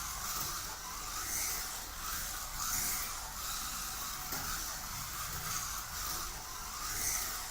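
A Revo slot car running on its track, a steady faint whirring hiss with gentle periodic swells as it circles, no voices.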